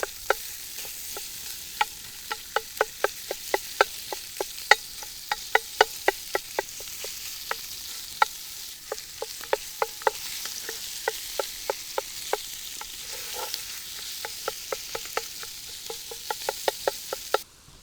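Pork sausage fries in a Dutch oven while a utensil breaks it apart, giving a steady near sizzle punctuated by regular sharp scraping knocks against the pot, with no talking.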